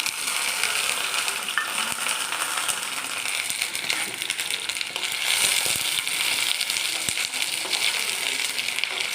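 Ivy gourd and chopped onion sautéing in hot oil, a loud, dense, continuous sizzle close up, with scattered small ticks and pops throughout.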